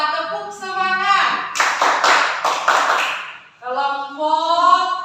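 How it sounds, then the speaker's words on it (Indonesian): A group of students in a classroom claps a rhythmic spirit clap in quick clustered bursts, set between harmonic voiced calls at the start and end. "Kelompok 2 tepuk semangat."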